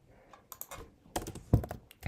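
Keys clatter on a computer keyboard during coding, in irregular bursts of clicks with short pauses between, close and fairly quiet.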